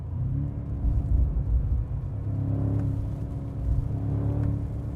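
A BMW M5 G90 accelerates hard, its engine a loud, sustained low rumble and roar heard from inside the car, rising and shifting over a few seconds with no talking.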